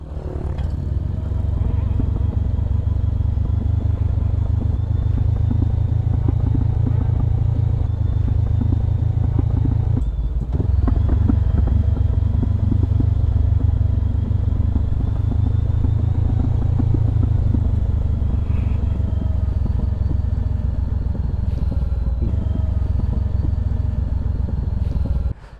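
A motorcycle climbs a very steep mountain road, its engine droning loud and constant with rumbling and clatter as the bike labors uphill.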